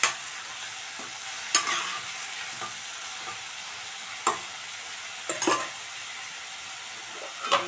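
Papaya flowers frying in a pan with salt and cumin, a steady close sizzle under occasional sharp utensil scrapes and taps as the mixture is stirred.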